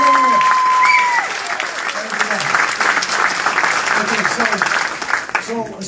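Sustained audience clapping at a Macomb Muskegon event, loud and steady, gradually thinning toward the end, with a voice talking over it.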